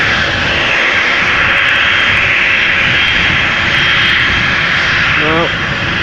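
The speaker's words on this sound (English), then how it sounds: "This is KLM flight 1631 to Venice, Embraer 190, 10 years old, first flight February 2014" A KLM Embraer 190 jet, ten years old, roars steadily and close by at Amsterdam Schiphol Airport, its broadband engine noise loud and constant throughout, with a brief voice near the end.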